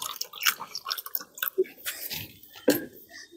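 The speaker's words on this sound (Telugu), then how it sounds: "ఇప్పుడు ఈ తరుక్కున్న ముక్కల్లో కొద్దిగా వాటర్ పోస్తున్నాను." Water splashes and drips onto cut aloe vera pieces in a container, with short wet squishes and trickles in uneven bursts, close by.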